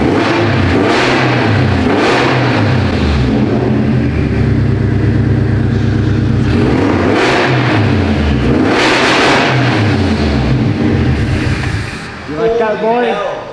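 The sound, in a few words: Toyota FRS with new aftermarket exhaust revving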